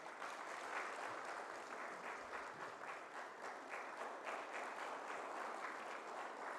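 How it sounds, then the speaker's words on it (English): Heavy, sustained applause from a large audience at a digital economy summit in Africa, steady and dense throughout with no voices rising above it. "a heavy clap"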